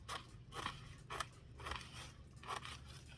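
Scissors cut through paper for folded book art in a series of about five close, crisp snipping crunches at a fairly steady rhythm, quiet and with no talking.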